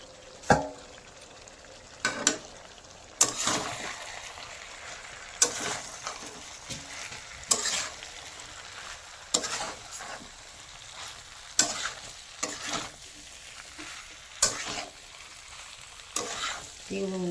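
Fried cauliflower and potato pieces tossed into a spiced mixture in a pan, giving a steady sizzle broken by repeated loud scraping stirs roughly every second or two.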